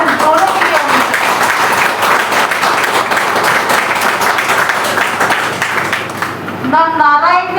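Loud, dense applause from a large audience at a Women's Day celebration, sustained for several seconds before fading, with a voice briefly returning at the end.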